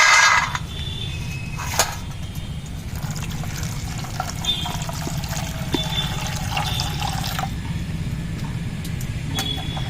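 Water pours and trickles steadily into a bowl to soak soybean chunks for a vegetarian recipe, a close, fairly soft liquid stream with a few light clinks over it, running continuously with no talk.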